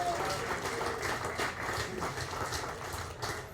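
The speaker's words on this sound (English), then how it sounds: "So big round of applause for all of them." An audience claps at a college athletics Hall of Fame ceremony. The applause is a steady wash of many hands that holds evenly throughout.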